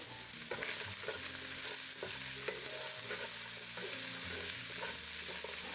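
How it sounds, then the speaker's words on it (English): Ground pork with bay leaf and chopped carrots stirred in a pan, a steady low sizzle under repeated scraping and clacking strokes of the spoon, close and fairly quiet throughout. "I added my bay leaf and my chopped carrots. Let's give this a stir."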